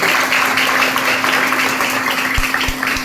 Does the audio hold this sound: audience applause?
yes